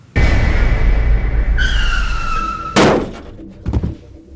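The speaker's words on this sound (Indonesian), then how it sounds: "Mobil Tia seketika berhenti." A car brakes hard on a foggy road, tyres shrieking in a loud skid for over two seconds before a sharp thud as it halts, followed by a few softer knocks.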